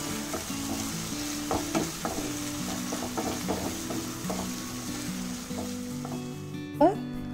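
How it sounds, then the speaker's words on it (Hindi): Finely chopped onion with salt sizzling and being stirred in a pan for prawn curry, a steady close frying hiss broken by clinks and scrapes of the spoon, with faint talk in the background. "हम इसमें एक बारीक कटा हुआ प्याज को डाल देंगे। इसके साथ थोड़ा सा नमक डालेंगे"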